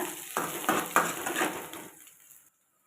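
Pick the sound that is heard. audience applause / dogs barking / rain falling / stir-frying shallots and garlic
stir-frying shallots and garlic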